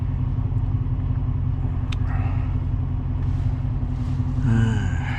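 Car engine rumbling steadily from inside the cabin while driving, a constant low drone at moderate level with a brief higher chirp near the end and no talk.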